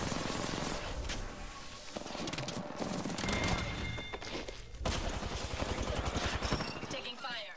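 Rapid bursts of automatic gunfire in a shooter game, repeated volleys of close, loud shots with brief pauses between them, under game sounds and some voice.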